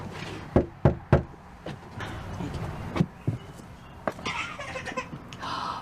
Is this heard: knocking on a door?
yes